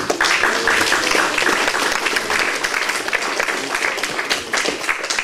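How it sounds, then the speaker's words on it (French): An audience at an Afro evening event applauds the organizer, a dense burst of clapping close by that stays lively and fluctuates slightly throughout. "Je vous demande également de l'applaudir, s'il vous plaît."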